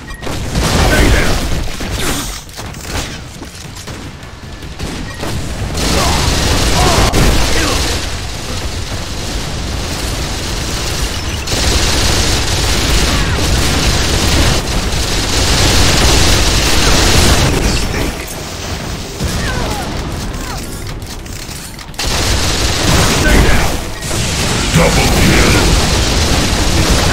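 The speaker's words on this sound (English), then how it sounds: "I'm taking heavy fire!" Unreal Tournament 3 team deathmatch on the Crucible map: loud, continuous gunfire and explosions, heavy rumbling blasts and bursts layered densely almost throughout, with brief lulls and occasional shouted voices mixed in.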